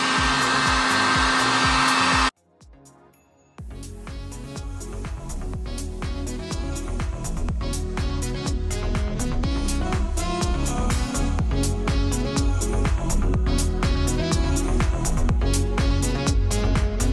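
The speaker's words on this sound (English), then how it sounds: "Now they say all we gotta do is take the heat gun" A heat gun shrinking tubing on trail light wiring, giving a steady close-up blowing whir that cuts out briefly and then restarts, running continuously with no talk.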